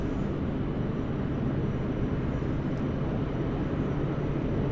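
Qantas airliner taking off from Sydney Airport, bound for Auckland, a steady broadband jet engine roar heard from a distance, constant and unbroken throughout with no talk.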